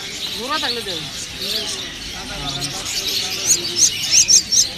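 Myna birds chirp in quick, bright bursts at a busy Puthia bird market, the calls growing denser and louder toward the end while several people talk over the ambient market noise.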